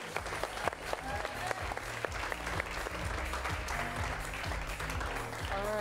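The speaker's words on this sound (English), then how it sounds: "Let's give a round of applause and get the next 3 players on stage." Applause from an audience at an improv comedy show fills the room steadily, dense clapping with a few sharper claps standing out, and some voices and cheers mixed in underneath.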